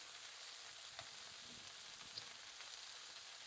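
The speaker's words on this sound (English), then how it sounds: "Okay, we're going to start to flip it." Chicken for fajita tacos sizzles in a pan over a high flame after being flipped, a steady, faint frying hiss with a few soft clicks of the utensil.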